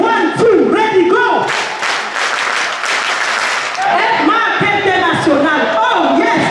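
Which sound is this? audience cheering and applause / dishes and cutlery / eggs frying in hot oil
audience cheering and applause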